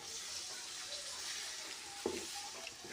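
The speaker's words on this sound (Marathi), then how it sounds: "थोडस पाणी ओतलं ना ते बरोबर शेंगदाण्याचा कुठं माखून जाईल" Water is poured into a hot pan of peanut powder on a wood-fired stove, giving a steady frying hiss with one brief sharp sizzle near the end, and no talking.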